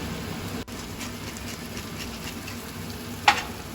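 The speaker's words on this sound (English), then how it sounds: "I'm just going to cook that down until the kale goes a beautiful green colour and it's cooked." Kale cooks down in butter in a pan with a soft, steady sizzle, interrupted by one brief dip and one sharp click.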